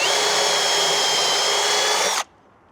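A power drill drives a pocket hole screw into wood while building a chicken coop, one loud continuous whine close by for about two seconds that stops abruptly, leaving quiet.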